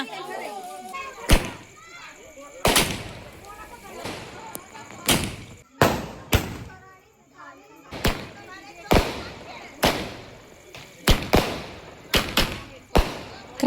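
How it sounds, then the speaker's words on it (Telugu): Sharp Diwali firecracker bangs burst out repeatedly at irregular intervals, loud and close, with voices talking and shouting between them. "ఇలా క్రాకర్స్ అయితే పేలుస్తూ ఉంటాం"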